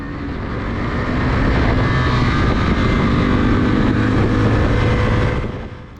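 A motorcycle ridden by a track-day instructor sweeps past at full pace on a race circuit, its engine note swelling quickly to a loud sustained roar and then cutting away as it passes.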